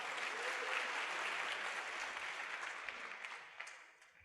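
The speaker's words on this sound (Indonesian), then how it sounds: "Aplaus buat Anda Bapak Ibu." An audience at a seminar claps together in a dense, steady burst of applause that slowly fades toward the end, with no talking over it.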